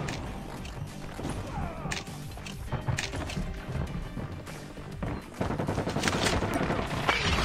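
AK rifle bursts ring out in COD Mobile gameplay: repeated rapid cracks and clattering impacts, loud and close, run through most of the stretch with a brief gap before more fire.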